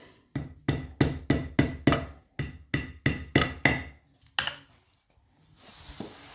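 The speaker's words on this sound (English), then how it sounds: "So I'll tap these in with a hammer." About ten sharp hammer taps in a quick, even rhythm drive fittings into holes while assembling a B&Q kitchen base unit, followed by one more tap and a quieter rustle.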